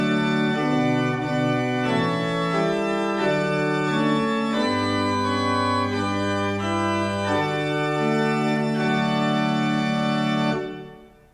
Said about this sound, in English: If I add one more stop to that principal, it's called the principal chorus